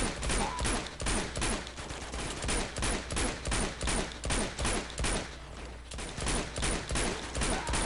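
Sustained video game gunfire in Uncharted 2, a dense run of rapid automatic bursts and shots repeating steadily throughout, loud and close with no speech.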